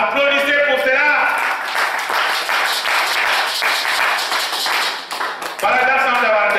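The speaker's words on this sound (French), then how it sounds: "Applaudissez pour cela." A church congregation claps at a sermon on the divinity of Jesus Christ, rapid dense clapping between stretches of someone speaking, with his voice present at the start and end.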